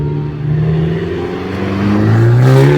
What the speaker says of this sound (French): Luxwash avec leur Abarth plus qu'aberrante. Elle est folle, elle fait un bruit de malade celle-là.